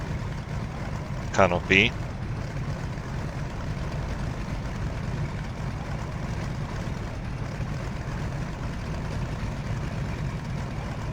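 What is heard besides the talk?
Fw-190 BMW aircraft engine in video game IL-2 Sturmovik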